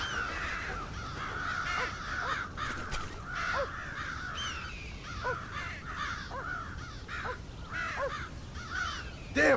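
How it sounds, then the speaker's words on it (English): Crows in the video game Red Dead Redemption give repeated loud, harsh caws, one after another, close by and without talk. "Damn crows!"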